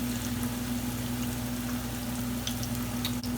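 Ripe plantains fry in a pan with a steady, close, dense sizzle and crackle that holds even throughout, with no talking.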